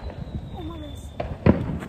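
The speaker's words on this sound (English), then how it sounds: "Y'all hear all them fireworks?" Distant fireworks pop and crackle outdoors, with a sharper burst near the end, under low background voices and ambient noise.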